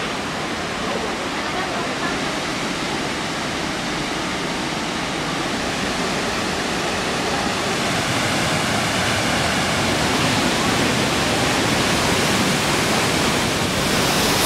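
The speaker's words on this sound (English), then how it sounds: "So this is Tunganungan, I think, waterfall" Tegenungan waterfall in Ubud, Indonesia roars in a loud, steady, close rush of falling water that continues unbroken from start to end.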